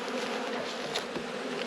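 Dense, steady buzzing of many honey bees swarming around an open hive during a robbing frenzy, close and continuous with no pauses.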